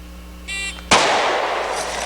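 A single sharp gunshot from a .460 firearm cracks loud and close, preceded by a brief tonal beep, then a long rolling echo decays over the next second.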